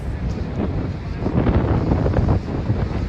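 Strong wind roars across the microphone over surging hurricane waves breaking onto land, a dense, steady rumble that swells slightly toward the middle and continues without pause.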